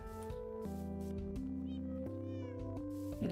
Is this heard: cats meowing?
yes